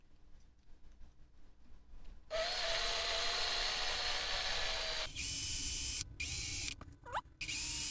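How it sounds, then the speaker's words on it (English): A handheld power drill whines steadily as it bores mounting holes through a panel for a small USB-C powered diode tester, two sustained bursts of drilling separated by a short pause, close and loud, with no talking. "I can literally just drill straight through there."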